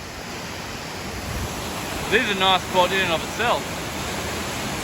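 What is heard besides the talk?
waterfall and creek rushing water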